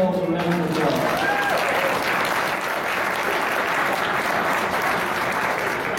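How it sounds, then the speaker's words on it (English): Audience applause at a stock show, a dense wash of many hands clapping that swells quickly after a brief voice at the start and holds loud and steady throughout. "So please give yourselves a round of applause."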